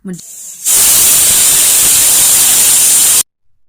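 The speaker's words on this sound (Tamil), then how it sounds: "குக்கரை மூடி வச்சு 4 விசில் விட்டுருங்க." A pressure cooker whistles while cooking jeera rice, a loud, steady high-pitched hissing blast of escaping steam that runs for a few seconds and then cuts off abruptly, with a brief quieter sound just before it.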